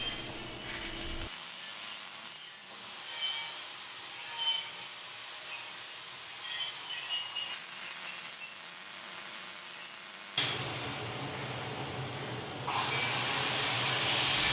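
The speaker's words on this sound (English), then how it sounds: "We do this similar to the other side, where we first tack it in place and then fully weld it" A taillight cap is tacked and then fully welded onto a steel bumper for a DIY Mojave tire carrier, giving bursts of broadband hiss and crackle that start, pause and resume, loudest near the end.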